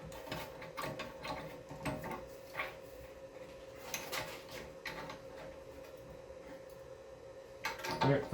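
A tool turning an Audi B8 brake caliper piston back in, with repeated ratcheting clicks and mechanical grinding at an irregular pace, close and fairly quiet.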